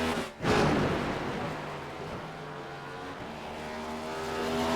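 A NASCAR stock car in the iRacing simulator on the Nürburgring Nordschleife, its engine holding a loud, steady drone after a brief dip, rising slightly toward the end with no talking over it.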